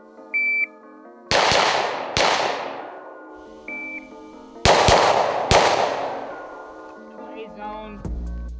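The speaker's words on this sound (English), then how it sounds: "we're gonna be doing a Mozambique, which is 2 shots to the body, 1 shot to the head" Two sets of three sharp pistol shots, a Glock 45 or SIG P320 running a Mozambique drill of two body shots and one head shot, loud and close with ringing decays, an electronic shot-timer beep before each string.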